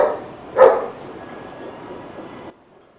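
A Labrador dog out on a training walk gives one loud, close bark, followed by a quieter steady background hum that cuts off near the end.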